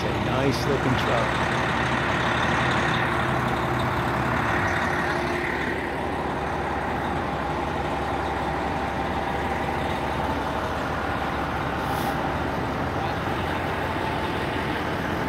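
A Bullhead City Fire Department fire truck idles with a steady, loud engine rumble, a brief hiss like an air brake release near the start, and people talking nearby over the engine.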